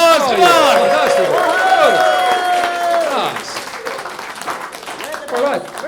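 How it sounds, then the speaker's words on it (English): Audience applause at a live comedy show taping, clapping running underneath loud, animated voices and cheering, with the clapping fading toward the end. "Give yourselves a big round of applause."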